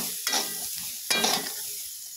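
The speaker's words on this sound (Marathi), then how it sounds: "मसाला टाकून परत असं हलवून घ्यायचं" Spiced roasted corn kernels being stirred in a pan, two distinct scraping, rattling stirs over a light sizzle, close and fairly loud, no speech.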